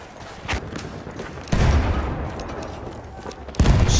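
Grenade explosions in the Battlefield 1 video game, two loud, heavy booms spaced a couple of seconds apart amid rumbling wartime battle noise, with no talk over them.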